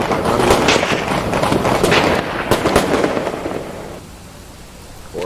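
Loud, dense bursts of explosions and crackling blasts as characters blow up in the procedurally generated survival mode of the video game Highway 2 Die, a near-continuous barrage that thins and fades toward the end.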